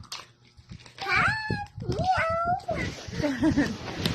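A cat meows several times in a row, with rising and falling cries mixed in among children's voices chattering close by.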